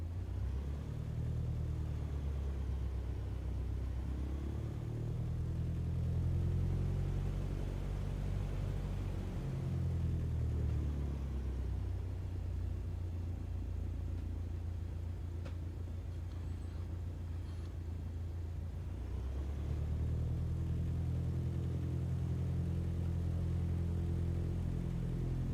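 An aircraft engine drones steadily while taxiing in Microsoft Flight Simulator 2020, a low continuous rumble that rises and falls gently in pitch over about 25 seconds, with no talk.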